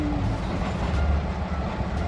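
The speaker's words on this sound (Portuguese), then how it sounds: "O trem tá indo e a máquina tá aqui, ó." A train rolls along the track with a steady, loud rumble and low rattling from the wagons, continuous and close for the whole stretch.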